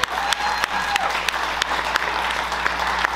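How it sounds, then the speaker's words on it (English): An audience at a comedy show bursts into steady, loud applause that carries on throughout, with scattered sharp claps standing out from the dense mass of clapping. "Y'all can clap for that."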